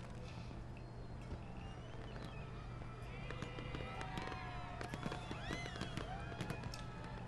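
Fireworks go off during the Feast of Lanterns event in the video game Neverwinter: repeated crackling pops and whistling rising bursts over a constant game hum and background ambience, fairly faint and busy.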